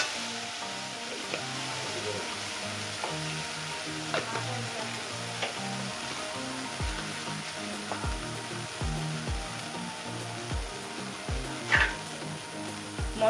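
Spice paste of ground cumin and masala for shahi paneer sizzles steadily in a pan, a continuous close frying hiss with occasional stirring clinks and scrapes, no talking.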